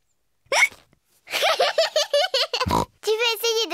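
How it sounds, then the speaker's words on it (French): Cartoon piglet George from Peppa Pig hiccups amid a run of short, squeaky, pig-like vocal bursts, with a sharp hiccup jolt near the end and close, loud, clear sound. "Le hoquet de Georges les empêche de jouer."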